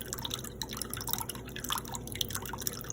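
Water poured slowly off saved tomato seeds gives a soft, steady trickle with light dripping and splashing, close and continuous at low level.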